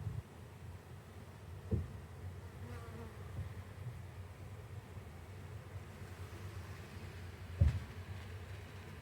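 Honey bees buzz steadily and softly during a bee package install, a close, continuous drone with two brief low thumps, no talking.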